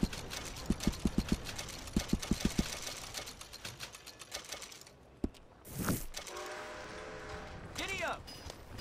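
Horse hooves clip-clop in a quick, even rhythm at first, fading as the animal moves off, followed by a thump, a rustle and a brief voice in a quiet outdoor setting.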